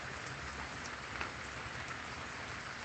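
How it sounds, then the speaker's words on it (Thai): Heavy rain pours down in a steady, dense hiss with scattered drop patter over a home garden of colorful caladium plants in Thailand, continuous and loud with no voices. "ฝนก็ตกไม่หยุดเลยนะคะเพื่อน"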